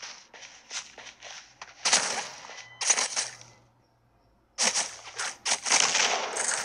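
Gunfire in the mobile shooter game Forces of Freedom on Android, with a sniper firing: sharp shots and clattering bursts come in clusters, loud and close, separated by a quieter gap.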